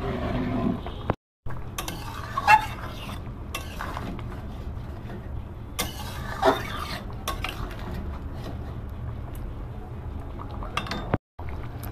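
Soybean curry with potatoes and mustard stalks being stirred in a pan, with intermittent metal clinks of a utensil against the pan and soft scraping, close up, with no talking.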